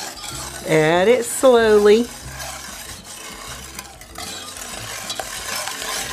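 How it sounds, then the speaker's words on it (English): A chocolate pudding mixture with whole milk is whisked, making soft, continuous scraping and swishing under quiet background music after a short spoken line. "while we continue to whisk."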